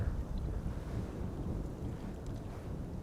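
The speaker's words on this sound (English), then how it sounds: "Wind is picking up." Wind at Schiphol Airport roars as a steady, low, rushing buffet across the microphone, loud and constant, with no talking over it.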